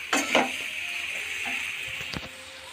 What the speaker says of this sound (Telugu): పాస్తా వేసి ఇటు అటు అలా కలిపి